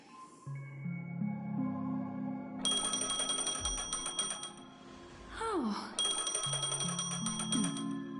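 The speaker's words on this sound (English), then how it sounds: "A phone." A phone rings in Honkai: Star Rail, two bright, repeating electronic ring bursts over a soft melodic background, with a short vocal exclamation between them.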